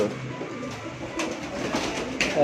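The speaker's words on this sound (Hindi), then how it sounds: "बड़ा प्यारा सियालकोटी कबूतर है" A Sialkoti pigeon coos softly in low, throaty bursts on a rooftop loft, close by, over steady outdoor background noise.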